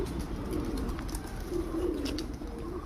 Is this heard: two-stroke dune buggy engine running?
no